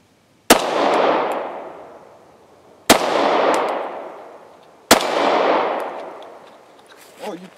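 Three sharp pistol shots from a Glock 26 Gen 4 firing Blazer Brass ammunition, spaced about two seconds apart, each with a long ringing outdoor decay, close and loud.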